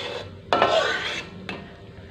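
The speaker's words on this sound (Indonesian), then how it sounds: "Sekarang kita aduk sebentar lagi aja." A spoon scrapes around a pan of sauce thickened with cornstarch for a tempe steak, giving a few distinct rasping strokes over a soft background, close and fairly quiet.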